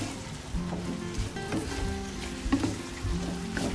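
Mussels with basil stir-frying in a pan, a low continuous sizzle with occasional stirring scrapes and clinks, close and soft, no talk.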